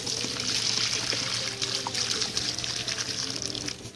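Water from a gallon jug pours into a bag of concrete mix for carport footings, a steady close splashing trickle running for several seconds with faint scraping underneath.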